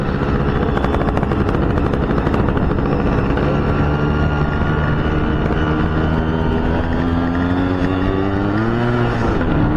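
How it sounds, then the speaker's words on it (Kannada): A Yamaha RX135 two-stroke motorcycle is ridden along the Kadugodi–Janasandra main road, its engine droning continuously and close with rising revs, mixed with wind rush. "ಇವತ್ತು ಹಾಗೆ ಸುಮ್ಮನೆ ಒಂದು ರೈಡ್ ಹೋಗ್ತಾ ಇದ್ದೀವಿ ನನ್ನ RX ಜೊತೆ"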